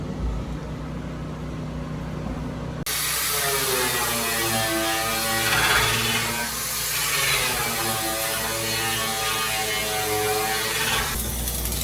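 An ammo bunker hatch mechanism lifts after a wrench undoes it, starting with a sudden mechanical click and moving into a sustained, close hiss with a wavering whine.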